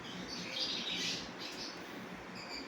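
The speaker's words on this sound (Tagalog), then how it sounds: "Nakita mga kaibon ha." Lutino opaline birds chirping in an aviary, a soft continuous chatter of small high tweets at moderate distance over steady background hiss.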